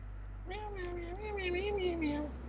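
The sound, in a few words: cat meowing in the video game Purrfect Date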